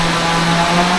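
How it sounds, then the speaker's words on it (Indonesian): Chainsaw cutting wood somewhere in a forest hamlet, heard as a steady, continuous motor drone with a sustained buzzing tone, fairly loud and unbroken throughout. "Itu ada suara mesin senso ya, mesin pemotong kayu,"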